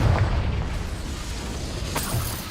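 A Confringo fire spell blasting in combat in Hogwarts Legacy. A dull explosive boom opens, followed by rumbling battle noise and a sharper burst near the end.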